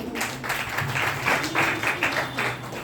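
Audience claps loudly at an indoor celebration event, a brief burst of rhythmic, fairly close applause with a few audible individual hand strikes and slight murmuring.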